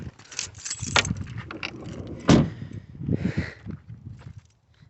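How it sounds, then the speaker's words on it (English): Keys of a 1999 Holden Astra jangling close up in a few brief metallic bursts, with a voice speaking briefly alongside. "Car keys."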